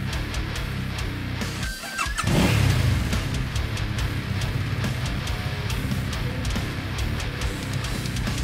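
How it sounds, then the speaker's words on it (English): Motorcycle engine on a heavy metal road trip: a steady, close engine drone with a rising pitch sweep and a louder surge of revving around two seconds in, then sustained riding noise, no talk. "let's go ride motorbikes"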